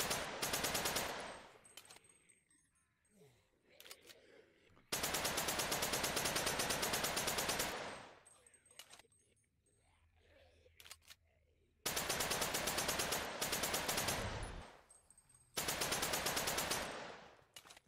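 Automatic gunfire in a VR zombie survival game comes in four long, loud bursts of rapid shots, separated by quieter gaps that carry faint background noise.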